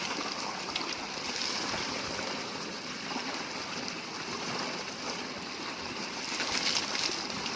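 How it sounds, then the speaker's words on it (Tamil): Strong, steady rush of water from a hose or pipe in a garden where cows are being bathed, a continuous broadband hiss and splash with no talk over it. "தண்ணி எவ்வளோ ஃபோர்ஸாக வருது பாருங்கள்."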